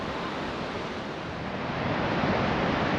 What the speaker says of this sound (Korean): 파도 소리